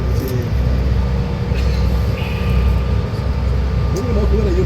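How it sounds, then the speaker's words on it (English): A passenger airplane holds on the runway awaiting takeoff clearance, its engines giving a loud steady broadband hum and whine heard from inside the cabin, with faint background voices. "aircraft has positioned itself on the runway, waiting clearance to take off"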